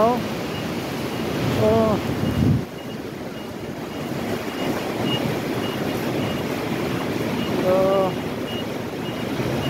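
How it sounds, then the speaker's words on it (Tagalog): Heavy rain driven by strong wind in Jeddah, Saudi Arabia, a steady loud roar of rushing noise throughout, with a voice briefly exclaiming twice. "Grabe yung lakas ng ulan sa Saudi oh. Oh, mahangin-hangin pa oh."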